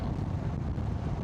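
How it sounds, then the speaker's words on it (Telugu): Cold wind buffets the microphone on a motorcycle ride from Pathankot to Srinagar, a steady low rumbling roar that stays loud and constant throughout, with no talk. "చల్లగా వస్తుంది గాలి అయితే."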